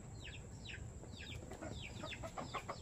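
Hens clucking nearby at a farmyard, a series of soft repeated clucks and short calls in quick succession, fairly faint over low background noise.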